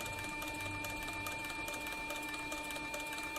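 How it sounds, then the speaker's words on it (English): An industrial sewing machine stitches a flank strap while its bobbin winder runs, giving a steady, continuous mechanical whir with fine rapid needle chatter throughout. "my bobbin winder over here is winding the bobbin as I sew this flank strap right here."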